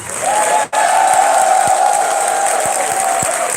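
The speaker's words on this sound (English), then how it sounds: "Ladies and gentlemen, please give a round of applause for our 2018 Vanguard Award recipient" A crowd at a 2018 gentlemen's ball award ceremony applauds and cheers for the Vanguard Award recipient, with a dense, loud, steady wash of clapping, a sustained cheering tone running through it, and a brief drop near the start.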